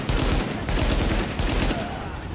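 Heavy gunfire from a big gun in Tom Clancy's The Division, a dense, loud, continuous barrage of shots with brief dips, close and dominating, with only faint traces of voice.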